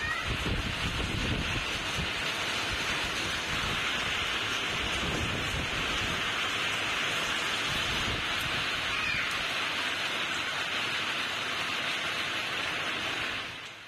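Heavy rain pours steadily over Kanchipuram district in Tamil Nadu, a dense, unbroken hiss with some wind, holding an even level throughout before tapering slightly at the very end.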